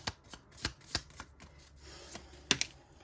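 A deck of tarot cards is shuffled by hand and cards are drawn during a reading, giving a quick run of sharp, close riffling snaps and soft slides with a brief louder flurry near the end, unaccompanied by voices.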